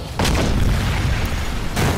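A grenade blast in a stick figure fight animation, a loud booming explosion that fills most of the two seconds, followed by a second burst near the end.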